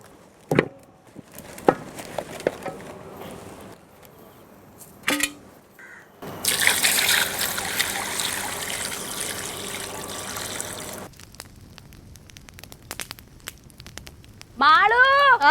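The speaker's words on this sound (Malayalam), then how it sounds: "ഇച്ചിരി വെള്ളം ഒഴിച്ചു വെച്ചേരെ." Water poured into a wide cooking pot set on a lit stove, a loud continuous splashing stream lasting several seconds, bracketed by scattered clinks, handling sounds and brief talk.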